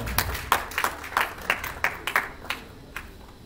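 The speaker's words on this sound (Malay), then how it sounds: "Berikan tepukan gemuruh kepada beliau." Scattered audience applause for a speaker at a government strata property system launch event, a thin run of distinct claps with no talk.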